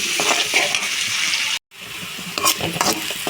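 Green chilies and curry leaves sauté with salt in hot oil, a close, bright sizzle with clattering stirring strokes. A brief dropout cuts the sound in the middle before the frying and stirring resume.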